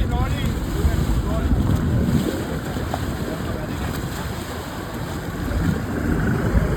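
A Sri Lankan navy patrol boat speeds over the open sea near Katchatheevu, its engine roar blending with rushing water and heavy wind buffeting the microphone, steady and loud throughout.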